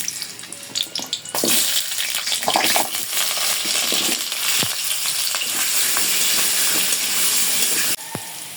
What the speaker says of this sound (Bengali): তেল গরম হয়ে গেছে আলু দিয়ে দেবো আলুগুলো আগে ভেজে নেব